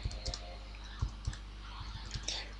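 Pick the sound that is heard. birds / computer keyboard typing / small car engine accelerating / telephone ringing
computer keyboard typing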